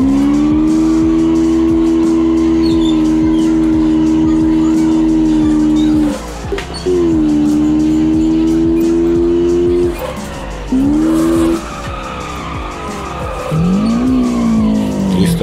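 Toyota AE86 drifting sideways in the BeamNG video game, a loud sustained engine drone with long tire squeals that break off briefly and resume, the pitch shifting as the car slides.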